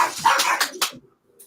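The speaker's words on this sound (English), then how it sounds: "Wow, I don't think your dog likes Jeremy Renner." A pet dog barks several times in quick succession indoors, loud and close, with sharp yips in the first second before falling silent, followed by a faint brief noise.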